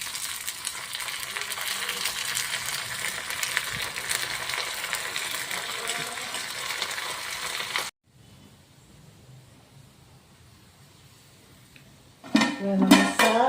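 Tempering spices sizzle and fry steadily in a pan for a coconut fish curry, then drop away into near-quiet before loud metal pot and utensil clanks ring out close by at the end; no one speaks.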